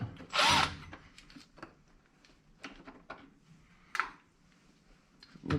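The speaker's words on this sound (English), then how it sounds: "I'm just using power tools so we can kind of power through this a little bit." Short bursts of a power drill driving screws during a stator install on a Cub Cadet Big Country mower with a Honda GX610 18HP engine, one strong burst then briefer ones, separated by quiet pauses with small clicks and handling noises.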